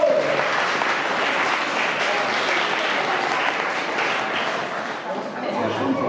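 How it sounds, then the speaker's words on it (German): An audience at a fire brigade open day clapping and stamping together, a dense sustained roar of applause with a murmur of voices underneath. "Also einmal klatschen und stampfen."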